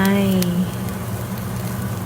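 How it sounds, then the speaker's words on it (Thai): Sliced yellow chili peppers are stir-fried in a pan with beaten egg, a steady sizzle following a brief tonal tone at the start, close and fairly loud, with no talking. "ผัดให้หอมอีกครั้งหนึ่ง"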